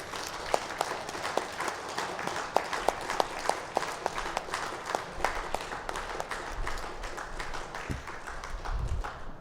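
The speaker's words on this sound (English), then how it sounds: "I request the floor to stand up and give an round of applause to Dr. Sujit Vasudevan and family." A standing audience in a hall at a physicians' day celebration gives a sustained round of applause, many hands clapping in a steady dense wash with some distinct louder claps, fairly distant and without talk.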